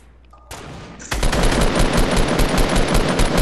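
Rapid automatic gunfire in Fortnite Battle Royale, loud and close, opening with a short burst after a quiet start and then running as dense continuous rattling fire to the end.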